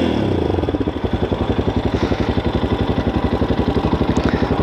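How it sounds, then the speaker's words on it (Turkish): Carbureted Lifan X-Plore 200 motorcycle engine idling up close after a single start, a steady, fast, loud rhythmic thumping with a slightly uneven clatter, no talking. "Onun dışında tek marşta zaten çalışıyor motor."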